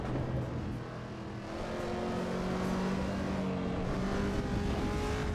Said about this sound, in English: I don't think the sound is horrible now that I'm hearing it in the upper rev range